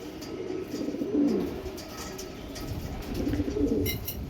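Black Andhra pigeons cooing in a pair, soft low rolling coos repeating in two clear bursts close by, over a steady background hiss with no talking.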